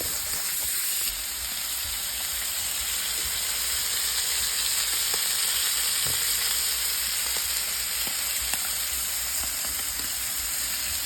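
Poor man ribeye steaks sizzle steadily on a Blackstone griddle, a continuous close frying hiss with occasional pops and crackles, loud and unbroken with no talking.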